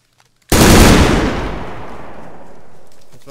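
A single loud, sudden blast of gunfire in a multiplayer shooter video game rings out with a long, fading rumbling tail.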